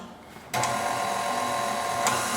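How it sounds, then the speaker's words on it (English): An egg mixture for a tres leches (three milk) cake is whisked, giving a steady, close mechanical whir that starts after a brief quiet moment and runs evenly to the end, with no talking. "we're gonna go ahead and just whisk this up for about another minute"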